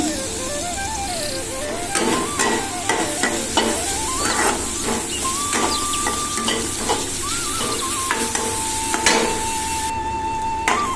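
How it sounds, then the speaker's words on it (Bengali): Pieces of chhana (cottage cheese) fry in oil with a continuous sizzle, broken by repeated clacks and scrapes of a utensil stirring in the pan, while faint tonal background music plays. "দেখো এগুলো হালকা করে ফ্রাই করে নিলাম"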